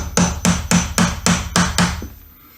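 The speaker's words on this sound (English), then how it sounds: "we're going to tap this in with our hammer and pry it loose a little bit" Six sharp, evenly spaced hammer taps driving a metal pry tool in behind baseboard trim, loud and close, followed by a brief quiet tail.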